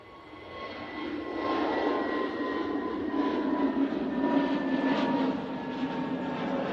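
Easyjet Airbus A320 jet taking off at Manchester Airport: a distant engine roar swells to a steady, loud rumble with a high whine layered over it, heard from the ground without talk.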